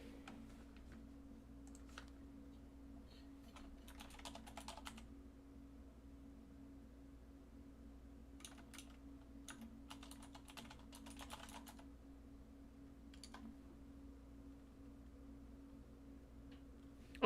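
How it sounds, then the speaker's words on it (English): Typing on a computer keyboard, bursts of quick soft key clicks spread through the stretch with pauses between them, faint and close over a low steady hum. "let me type it out for you"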